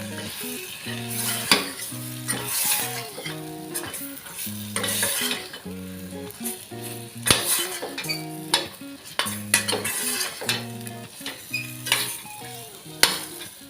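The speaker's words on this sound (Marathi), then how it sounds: "बागडे घालते मिक्स करून घेऊया" Bangda mackerel being stirred into a tangy, spicy Maharashtrian gravy in a pot, with a steady sizzle and repeated scraping stirs. Background music plays throughout.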